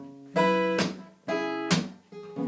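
Guitar notes plucked on the second and third strings together, struck in a slapping rhythm of three accents with bright attacks, played close and alone.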